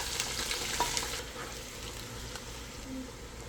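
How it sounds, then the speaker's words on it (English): Sliced onion and garlic frying in hot cooking oil in a pan, a steady close crackling sizzle with faint stirring scrapes, no talking. "It's time for us to start frying our stuff."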